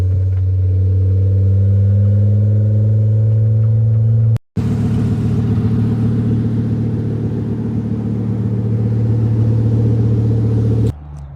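Rebuilt Volkswagen Jetta MK5 with a 02Q gearbox being driven, a loud steady low engine drone heard from inside the car, briefly cutting out and returning, then easing off at the end.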